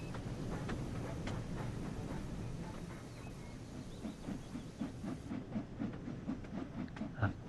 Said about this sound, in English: Just listening to the sound of a train.